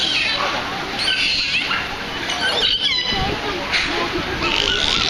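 Pacific white-sided dolphins call at an aquarium, a busy stream of high whistles, squeaks and chirps layered over steady background noise, rising and falling in quick bursts.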